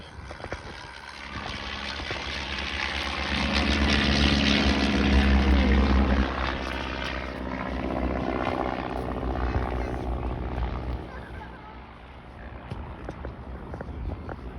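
Propeller aircraft performing at the Shuttleworth airshow, a loud droning engine that swells and fades as the plane passes, with faint crowd sounds underneath.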